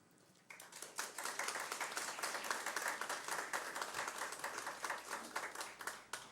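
An audience claps at a solemn ceremony honouring a woman. The applause starts suddenly and stays steady and dense, many hands together at moderate distance, then fades out near the end.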